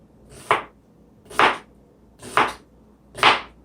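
A knife slices through an onion on a cutting board, four crisp, evenly spaced cuts close by, each a short crunchy stroke with quiet gaps between.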